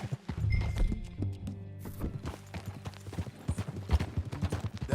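Horse hooves clip-clop in an uneven walking rhythm with occasional thumps, fairly close, and a brief snort partway through, in the video game Red Dead Redemption 2.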